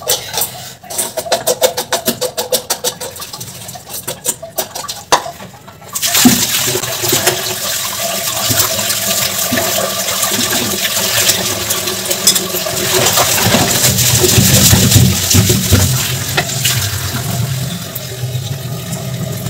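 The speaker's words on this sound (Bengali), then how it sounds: "মোটামুটি কড়াইটা ধোয়া শেষ।" A kitchen wok is rinsed under a running tap: first a rattling, clattering scrub, then a steady loud gush of water splashing into the pan and sink.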